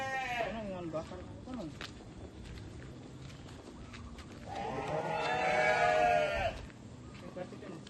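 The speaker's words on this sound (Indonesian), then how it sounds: "Itu kambingnya tetangga ya, bukan kambingku." A neighbour's goat bleats loudly in a long wavering call near the middle, with a shorter bleat at the start, set outdoors beside a patch of cleared land under a shady tree.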